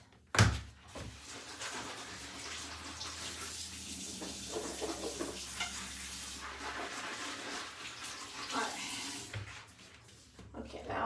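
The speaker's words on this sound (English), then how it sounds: "I'm gonna wash my hands." Running tap water splashes steadily while hands are washed at a bathroom sink, opening with a sharp thunk and continuing as a broad rushing spray with faint movement noises.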